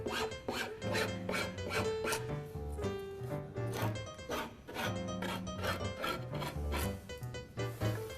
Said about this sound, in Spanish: vamos a proceder a refilar el excedente de cada costado